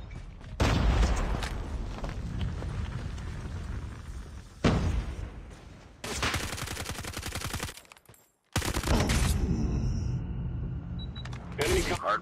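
Call of Duty Mobile gunfire rattles in rapid, loud bursts during a hardpoint match, with a sharp flashbang bang cutting into the shooting, a brief drop to near silence, then more heavy fire. In-game voices call out over the action.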